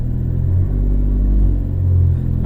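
The engine of a 2013 Fiat 500 Abarth, a small stick-shift car, drones in a low steady rumble from inside the cabin while driving, loud and even with slight swells.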